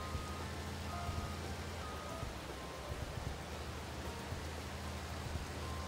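Steady rain falls outdoors as a soft, even hiss, faint and continuous with no other sounds above it.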